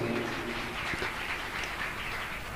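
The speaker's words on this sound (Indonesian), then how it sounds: "Tepuk tangan dulu untuk semuanya." Audience applause at a large graduation ceremony for Islamic scholars, a steady dense clapping wash filling the whole stretch at moderate level with no voice over it.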